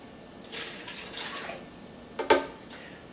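Room-temperature water, about 8 ounces, poured into Blendtec and Omni V blender jars: a soft splashing stream, a brief louder pour near the end, no talk.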